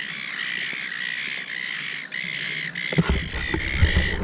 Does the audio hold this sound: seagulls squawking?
yes